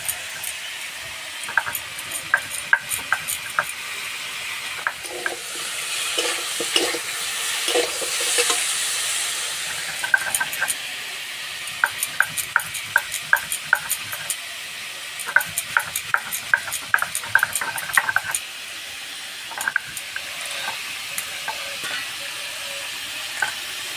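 Whole spices dry-roasting in a pan for a cauliflower pickle, stirred continuously: a steady soft sizzle and hiss with repeated scraping, rattling strokes of a spatula across the metal, close and moderately loud with no talking.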